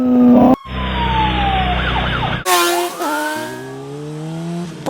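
A police siren wails loudly and up close, sweeping and yelping through shifting electronic tones, with abrupt cuts between different siren patterns.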